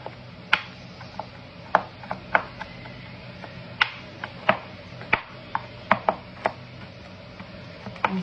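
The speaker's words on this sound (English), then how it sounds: "I'm gonna chop this really finely" A knife finely chops a block of chocolate on a board, producing sharp, irregular taps and cracks over a steady low background hum.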